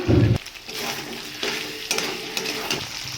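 Fried cauliflower is stirred into a yogurt masala in a pan, giving a few clanks of a spoon against the pan, then a quieter sizzle with intermittent scraping stirs.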